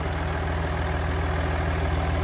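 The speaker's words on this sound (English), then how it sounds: "the 3-liter baby Powerstroke on the 2021 F-150" A 2021 Ford F-150 Platinum's 3.0-liter Powerstroke diesel V6 idles steadily up close, a constant low rumble with a faint clatter and no voices over it.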